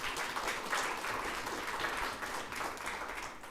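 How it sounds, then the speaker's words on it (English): An audience applauds student beneficiaries of a mayoral award at a mayor's address, a steady, even wash of many hands clapping at moderate distance, continuous throughout with no speech. "Give yourself a round of applause."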